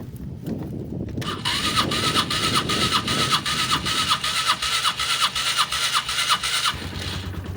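A motorcycle engine fitted with a Chinese-made carburetor runs steadily close by, its loud rhythmic idle pulsing evenly with a faint rise in revs near the end; no one speaks.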